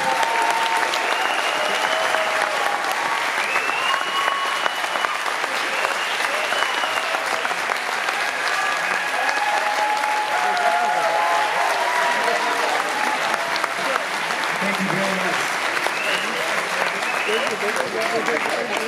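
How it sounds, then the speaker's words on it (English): Steady, enthusiastic applause from a large audience at the 2018 Indigenous Music Awards ceremony fills the room and continues without a break. "please give everyone a round of applause."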